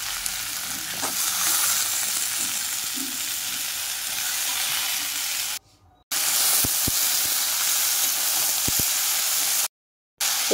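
Potato, pumpkin-flower stalks and eggplant cooking in a spiced masala, a loud continuous sizzle broken by two brief silences, with a few sharp clacks of a spoon against the pan.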